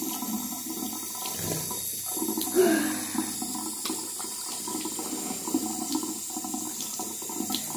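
Warm water runs from a bathroom tap while teeth are brushed, a steady close rush of flow with occasional splashes and small knocks over it.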